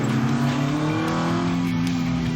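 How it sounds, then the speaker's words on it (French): A vintage Alpine sports car engine runs steadily on a seafront road in Dieppe, a loud close drone with rising harmonic tones as it revs gently, with no voices over it. "On entend bien le moteur, hein, il est bien présent."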